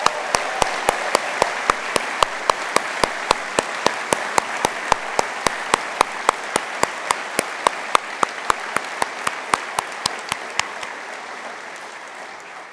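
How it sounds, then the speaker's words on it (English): Applause at a university graduation ceremony, a steady crowd roar under one loud, evenly spaced clap repeating close by, tapering off toward the end. "giving them a very extra loud round of applause."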